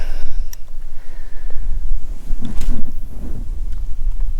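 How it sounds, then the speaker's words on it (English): Strong wind gusts over open water on a fishing trip buffet the microphone with a loud, continuous low rumble and rushing noise, broken by a few faint mechanical clicks from the boat. "the wind's blowing a little bit hard"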